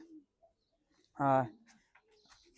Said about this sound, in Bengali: এটা হলো আমার একটা খাকি কবুতর